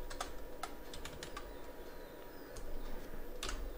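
A username being typed on a computer keyboard during a local WordPress install, a few irregular quick key clicks over a faint steady background hum, with no one speaking.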